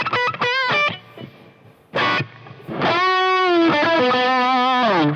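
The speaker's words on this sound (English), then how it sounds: "I'm just using some again, mild overdrive from the Nova drive" Electric guitar solo through a Nova Drive pedal set to mild overdrive with a dry tone, no reverb, playing short bent notes then a long sustained, singing line, loud and alone.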